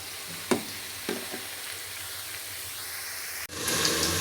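Chopped bottle gourd is poured into hot oil where green chillies, onion, turmeric and salt are frying. A couple of soft knocks come first, then a steady hiss that bursts into louder sizzling near the end.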